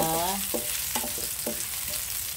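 Onion frying in a pan ahead of garlic for mongo with chicken, a loud steady sizzle with a few stirring knocks, and faint tonal voice-like traces early on.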